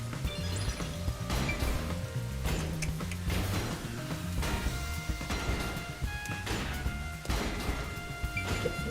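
In the video game Master Detective Archives: Rain Code, peacekeepers try to break down a door, a series of loud repeated bangs and crashing thuds over a constant rainy background.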